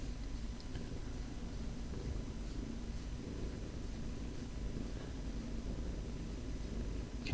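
A house cat purring right beside a microphone, a steady low rumbling drone that continues unbroken throughout with no talking.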